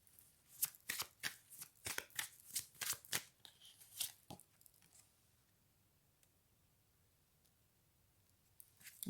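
Tarot cards shuffled by hand in a string of crisp, close riffling bursts for about four seconds, then near silence before one more brief rustle at the end.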